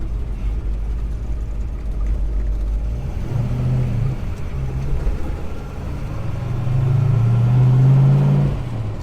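A classic R-code Ford Mustang engine rumbles steadily, heard from inside the car, with a low droning growl that swells as it accelerates.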